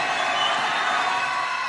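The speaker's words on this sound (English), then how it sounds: "Crowd making some noise" Basketball game crowd noise during a high school free throw in a close contest, a steady broad roar of voices and cheering, fairly loud and continuous.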